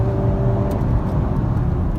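Honda Civic Type R FK8 accelerating hard to 60 mph, a steady, loud engine drone with low rumble and road noise filling the whole stretch.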